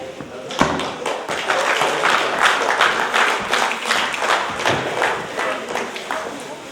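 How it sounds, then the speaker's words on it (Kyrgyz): A crowd applauds at a Kyrgyz akyn and singer performance event: continuous, fairly loud clapping mixed with crowd noise and thumps, with no clear break. "Кол чабуулар болсун туугандар"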